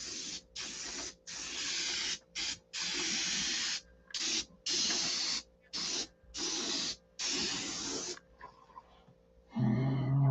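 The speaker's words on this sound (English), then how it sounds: "So it's three dust coats of sizing, and I do mean dust coats." Light dust coats of sizing are sprayed in a series of about ten short hissing bursts, each a second or less, separated by brief pauses, close and fairly loud.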